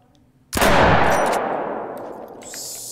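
A single loud gunshot fired at an oryx in the hunting game The Hunter: Call of the Wild, a sharp blast followed by a long rolling echo that fades over a couple of seconds.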